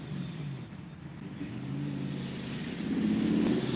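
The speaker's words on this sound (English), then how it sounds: "oh man, we got the old race car" Old hot rod race car driving past a riverside fishing spot, a low engine drone that builds steadily louder as it approaches, heard from some distance.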